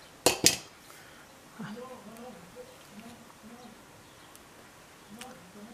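Scissors cut pieces off a paper craft, two quick sharp snips close by, then quiet room tone with faint murmuring sounds.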